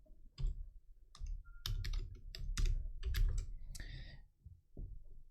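Fingers type on a computer keyboard close by, a quick irregular run of sharp clacks and key taps with short pauses, alone without talk.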